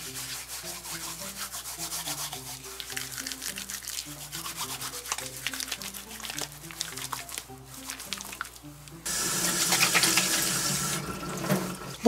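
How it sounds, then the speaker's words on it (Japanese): Running tap water splashes as slime is rinsed off a large mystery shellfish; rubbing and handling noises over a steady stream, swelling into a louder, fuller gush near the end. "もう一回ね、ぬめりをね、洗ってきます。"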